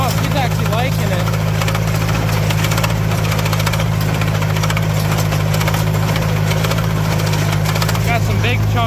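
A steady mechanical engine drone of an International McCormick 46 hay baler, with a low hum and rattling, running continuously throughout at close range.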